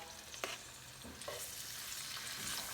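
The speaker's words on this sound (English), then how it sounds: "we're just going to put it right in to the oil." Cherry tomatoes drop into hot oil, raising a bright, close sizzle broken by a few sharp spatters and taps of stirring across a short stretch, with no voices.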